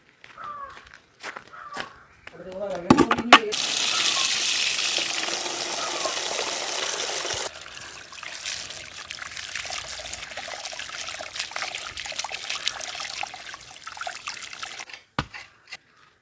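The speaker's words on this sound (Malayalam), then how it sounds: "കപ്പ കൊണ്ടുപോയിട്ട് കഴുകിയിട്ട് വരാം." Water runs and splashes steadily while tapioca (kappa) is washed outdoors, a loud continuous gush in the middle that eases to a softer trickle, with a few scattered knocks and no talking.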